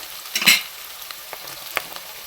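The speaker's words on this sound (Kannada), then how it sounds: "ಇವಾಗ ಟೊಮೆಟೊ ಹಾಕ್ತಾ ಇದ್ದಾಳೆ." Chopped tomatoes dropped onto softened onions frying in a pan for mixed vegetable rice bath set off a sudden sizzling burst, then a quieter crackle with a second brief flare.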